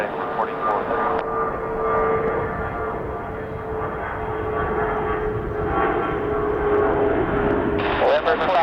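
An airliner rolls for takeoff at Chicago O'Hare as a steady engine roar runs throughout, under continuous tower radio chatter.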